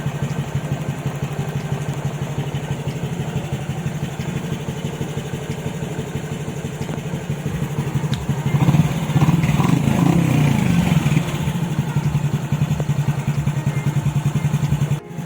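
A fuel-injected Honda XRM 125 motorcycle engine, freshly modified and still under break-in, runs steadily at a close idle, its note swelling briefly midway as revs rise, then settling back.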